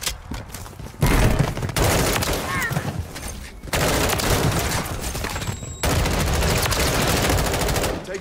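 Full-auto M16 fire in Modern Warfare 3, loud sustained bursts of dense rapid shots broken by short pauses, in a chaotic battle mix.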